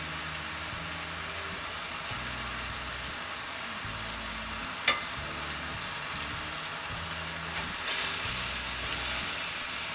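Flank steaks returned to a pan with shallots sear with a steady close sizzle, broken by a sharp clack near the middle and a louder surge of hiss toward the end.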